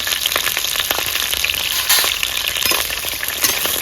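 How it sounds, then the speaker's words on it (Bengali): Spiced cauliflower florets, coated with chili powder, cumin powder and a little sugar, frying in hot oil with a loud, dense crackling sizzle close up, popping bursts scattered throughout and no voices. "তেলটা গরম হয়ে গেছে একটু ভেজে নেবো"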